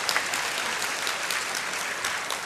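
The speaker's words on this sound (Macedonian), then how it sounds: "Аплауз." Audience applause at a live music performance, a dense, steady wash of many hands clapping throughout, fairly close and loud with no talking over it.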